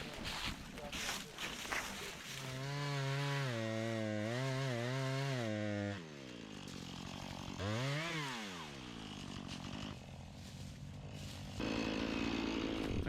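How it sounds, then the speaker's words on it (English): A chainsaw snarls loudly as it cuts down trees in the woods to clear a trail, its engine pitch rising and falling as it revs through cuts, with a few short pauses between bursts. "I'll finish up these trees with the chainsaw"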